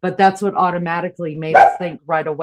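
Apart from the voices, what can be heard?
dog barking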